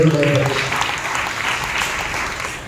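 A church congregation at a Sunday service claps together in steady, sustained applause. A voice is heard briefly at the start, and the clapping fades slightly toward the end.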